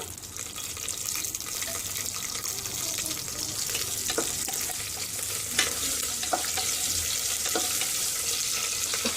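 Green chillies dropped into hot oil in a pan for paneer biryani, giving a steady close sizzle and hiss with faint scraping stirs throughout.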